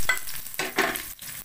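Garlic and onion stir and sizzle in a hot pan, with soft frying crackle and a few scraping strokes of a spoon, close and steady with no talk.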